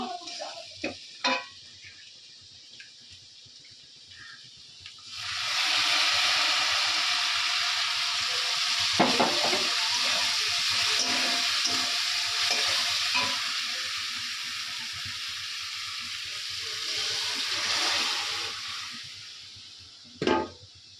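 Dal hits a hot pan and sizzles loudly and steadily for about fifteen seconds, with occasional stirring scrapes and quieter pan noises before and after.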